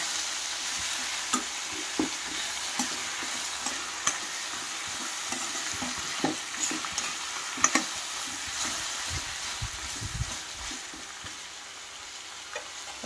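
Raw banana slices fry in a pan while being stirred, with a steady moderate sizzle broken by repeated spatula knocks and scrapes at an irregular pace.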